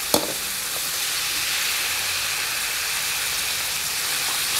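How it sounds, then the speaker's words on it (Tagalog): Mushrooms sizzling and frying steadily in a hot pan for pasta puttanesca, an even hiss throughout after a brief clatter at the start. "Saute lang natin."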